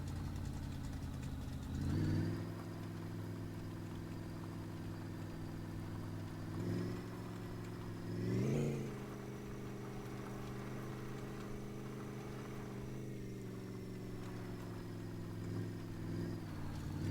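A truck engine idles steadily up close with a low, even drone, blipping briefly louder three or four times as the throttle is touched, in a junkyard setting.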